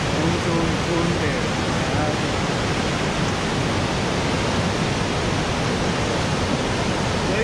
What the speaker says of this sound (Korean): 물이 내려가서 바로 여기까지 폭포가 돼서 떨어지는 거예요.